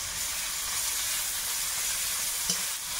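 Ginger-garlic paste sizzling in hot oil in a pan, a continuous even hiss and spatter up close, with one brief clink near the end and no voices.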